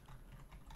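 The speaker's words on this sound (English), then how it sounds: "So I'm going to type again," Keys on a computer keyboard are tapped in a brief, very faint run of soft clicks.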